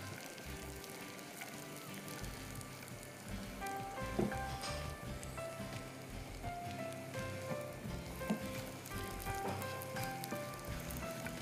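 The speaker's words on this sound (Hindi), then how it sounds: "और देखें इसमें खूब सारा उबाल आ रहा है" Sugar syrup with cashews at a rolling boil in a pan, a dense bubbling sizzle with scattered pops, steady and close throughout without speech.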